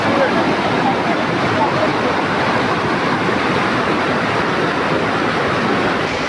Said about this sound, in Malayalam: ഇത് ഓടയിൽ നിന്ന് മഴവെള്ളം ഒഴുകി വരുന്നതാണ്